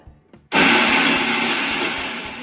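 An electric mixer grinder pulverising red chili and salt into powder starts abruptly after a couple of faint knocks, then runs as a loud, steady close whine and roar until the end.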